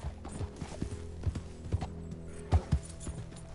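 Horse hooves in a PS4 video game thud at an uneven walking pace, with several soft, low footfalls and a couple of louder hits near the end.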